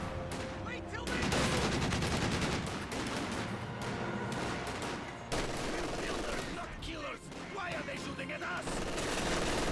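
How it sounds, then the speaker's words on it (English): An MG42 machine gun in Company of Heroes 2 fires as a continuous, loud stream of rattling bursts mixed with dense battle noise, with brief dips between volleys. "MG42 firing away"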